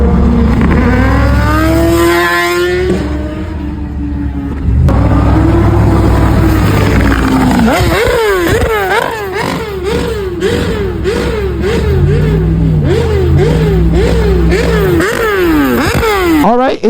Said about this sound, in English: Oh, I hear a bike.